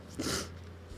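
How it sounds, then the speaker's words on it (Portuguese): One short, sharp sneeze bursts out close by, followed by faint breathing against a quiet background. "Ele não consegue controlar nem mesmo o espirro"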